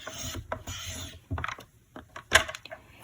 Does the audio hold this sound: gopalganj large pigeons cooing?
no